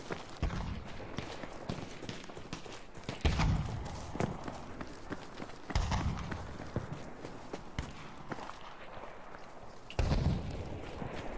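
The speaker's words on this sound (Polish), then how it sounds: "Strzelają." Gunfire in the video game Battlefield V Firestorm, several sharp bursts and thuds spread out among running footsteps and rumbling, moderately loud against continuous battle noise.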